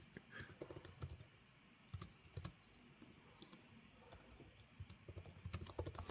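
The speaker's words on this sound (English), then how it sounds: "Look at you typing it all out." Fingers type on a computer keyboard during a Java robotics programming session, quiet but close, with irregular bursts of clicking keystrokes and brief pauses between runs.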